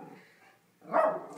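A puppy gives a short, high bark after a brief soft whimper, close by and fairly loud.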